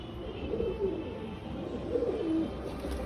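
A pigeon coos softly at close range, two short rolling coos about a second apart over a low background hum.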